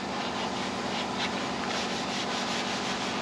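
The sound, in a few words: scuffing burnt car frame with Scotch-Brite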